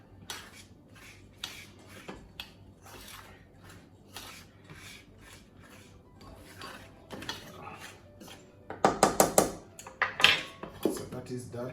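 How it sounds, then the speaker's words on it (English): Dry ingredients with pepper and ginger powder mixed in a bowl for coconut fried chicken: a run of scraping, rubbing strokes from a utensil, then louder clinks and rattles against the bowl near the end. "Mix these dry ingredients together."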